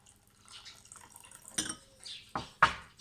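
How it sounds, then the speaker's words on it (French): A spoon stirs green clay into mineral water in a glass, giving a few soft swishes followed by three sharp clinks against the glass near the end, close and quiet with no talking. "Donc on vient bien touiller, bien mélanger."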